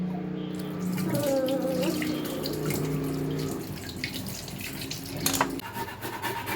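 Water runs from a tap into a sink while something is rinsed under it before grating, a steady close stream with rubbing and splashing that changes as hands move through it, then thins toward the end.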